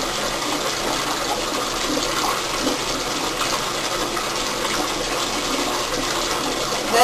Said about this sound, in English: Then this is where I get in the bathtub. Really get in there and rinse it good.